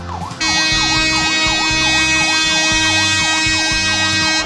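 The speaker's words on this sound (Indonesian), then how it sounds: "Kapal Ian Batak sedang memanggil penumpangnya." The horn of the ship KM Ihan Batak at Ajibata port on Lake Toba sounds a loud, wailing tone that sweeps up and down again and again, over a rhythmic low thumping, after a brief quieter start.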